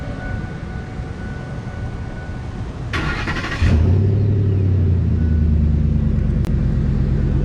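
A 2007 Ford F150 with a 4.6 V8 and dual exhaust starts up after a brief burst of noise, then settles into a steady, deep, loud rumbling idle that holds to the end.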